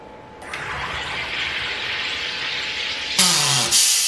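An Aarke Carbonator III soda maker carbonating water as its lever is pushed down: a steady hiss of gas through the water, then a louder sputtering, buzzing release near the end.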